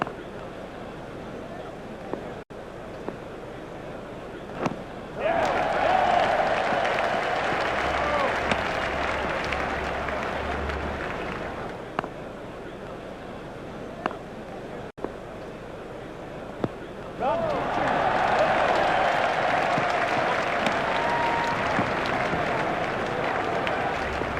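A stadium crowd at a T20 World Cup cricket match between Sri Lanka and South Africa applauds and cheers a shot in two loud sustained bursts, with a commentator speaking between and over them.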